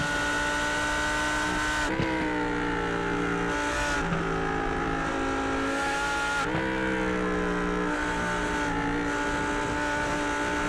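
Race cars lapping the Circuit of the Americas in a GT sim racing game, engines droning loud and continuous with repeated shifts and pitch changes, and no voices over it.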